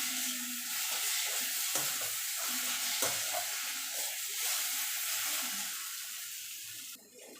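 Yardlong beans tossed with fried dry chilli and onion in a hot pan, a steady broadband sizzle with soft scraping stirs running throughout, no voices.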